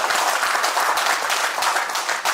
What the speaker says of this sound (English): Clap for that place.